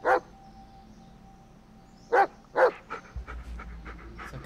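A dog gives several sharp, loud barks close by, with a single bark at the start and a cluster of barks and yips toward the end, plus breathy panting in between, in a wooded outdoor setting.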